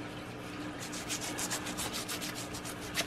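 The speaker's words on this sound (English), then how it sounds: "And then I'm taking my sandpaper while it's wet." Sandpaper rubs wet across an old brass chandelier in steady, rhythmic back-and-forth strokes, close and fairly soft, with no talking.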